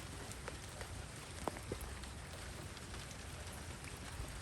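Steady rain falls in a continuous hiss over an outdoor welding work area, with a few faint drips and taps standing out briefly.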